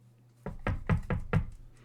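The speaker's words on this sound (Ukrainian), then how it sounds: "Так, треба постукати." Five firm knocks on a wooden door in the Minecraft video game, spaced about a quarter second apart in an even rhythm, close and loud against a quiet background.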